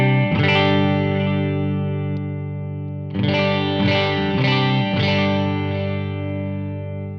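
An electric guitar plays through a Greer Lightspeed overdrive pedal with the drive set low. Two sustained, ringing chords are struck, the second followed by a few re-picked accents, with no talking.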